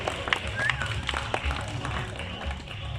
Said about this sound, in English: Ladies and gentlemen, how about a round of applause to Aslan, our binturong.